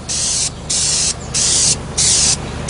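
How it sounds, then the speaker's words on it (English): Spray paint from an aerosol can coats a plastic fishing jug yellow in four loud, steady bursts of close hissing with short pauses between them. "A little coating on the bottom, and then spray around."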